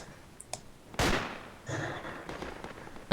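A single sharp, loud rifle shot from a Drive V98 in a multiplayer shooter cracks out and echoes as it trails off, followed by softer distant thumps and a final abrupt report.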